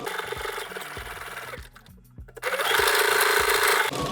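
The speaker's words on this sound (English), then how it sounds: "we're going to stitch straight down through the middle of the block all the way to the next corner" A sewing machine stitches straight across a quilt block from corner to corner, its needle thumping in a steady, loud close-up rhythm that pauses briefly in the middle and then resumes at a faster, louder pace.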